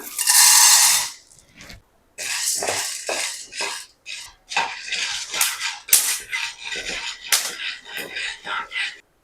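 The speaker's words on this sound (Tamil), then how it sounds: "இந்த மாதிரி மிளகு வெடிக்கும், சடச்சடன்னு வெடிக்கும்" Black peppercorns frying in a pan, with sharp, irregular crackles and pops bursting out in quick clusters and short gaps between them.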